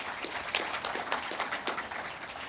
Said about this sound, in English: We can clap for them.